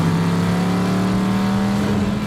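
Classic car with a 327 four-barrel V8 rumbling steadily up close, a loud sustained engine drone with a strong low hum and no voices over it.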